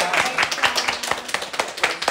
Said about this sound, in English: I just want to give a round of applause to all the women that have spoken already